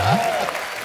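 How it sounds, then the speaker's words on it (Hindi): A studio audience on a Hindi TV comedy show, The Kapil Sharma Show, bursts into brief applause, with a voice speaking over the clapping. "आप लोग भी तालियां बजा सकते"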